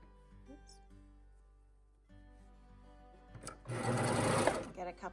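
A domestic sewing machine stitches fabric for a romper hoodie, a loud dense whirring burst of a second or so, preceded by quieter handling noises and a low steady hum, with talk nearby.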